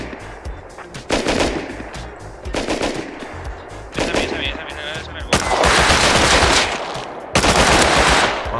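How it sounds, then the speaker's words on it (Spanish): Bursts of automatic gunfire from the survival video game Rust, including MP5 fire, come in loud, dense volleys separated by short pauses, with a brief voice mixed into the shooting. "¿Habéis disparado vosotros?"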